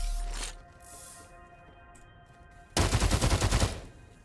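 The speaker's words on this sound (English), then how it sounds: "And that was a gunfight" A gunfight in a video game: a short burst of shots at the start is followed by a quieter lull with faint tones, then a loud, rapid volley of gunfire lasting about a second.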